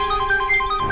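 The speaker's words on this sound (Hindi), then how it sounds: "फोन अभी भी बज रहा है।" A mobile phone rings with a steady repeating electronic tone pattern that plays on alone for about a second, with no talk over it, in an underground setting from the CID crime drama.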